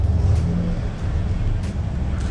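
A Dodge Dakota engine running steadily with a low, even rumble, the idle rising and falling slightly as it is revved a little, close by and with no talking.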